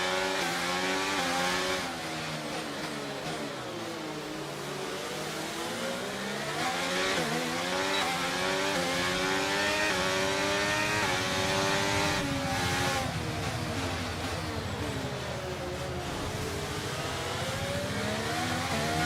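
Formula 1 race car engines in the F1 23 video game, a loud continuous high-pitched whine rising and falling through gear changes, with other cars sweeping past close by.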